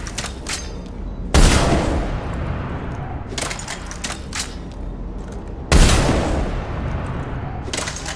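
Gunfire from shooting in the video game Mass Effect 3: loud close bursts of rapid shots, with two heavy booming blasts standing out amid continuous firing and crackle.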